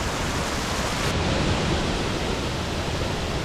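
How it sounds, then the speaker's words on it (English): Alder Creek Falls near Wawona in Yosemite, running with lower water flow, roars as a steady, loud, close rush of falling water with no voices. "And just a really, really beautiful waterfall here, even with lower water flow."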